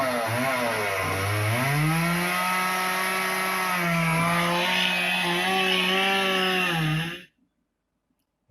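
Chainsaw recording played back, a loud close engine whine that holds a steady pitch with a few rising and dipping revs for about seven seconds, then cuts off abruptly into silence.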